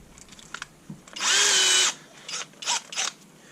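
A power drill whines at high speed in one burst of under a second, then gives a few short bursts while removing heat sinks from a computer for scrap. The sound is close and fairly quiet.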